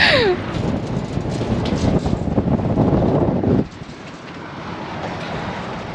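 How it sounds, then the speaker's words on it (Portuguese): Cold wind on a South Dakota plain buffets the microphone in a loud, rough roar that drops suddenly to a steadier, quieter rush partway through. "Um vento gelado que arde, sabe?"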